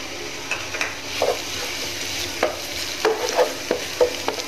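Shallots and minced garlic fry in hot oil with a steady sizzle, while a utensil stirs the pan in irregular scraping clicks.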